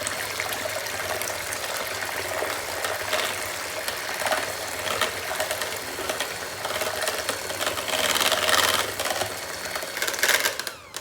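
Eggs whisked by hand in a medium-sized bowl until foamy, a steady rapid clicking and scraping with a faint watery slosh, continuous and fairly close, no voices.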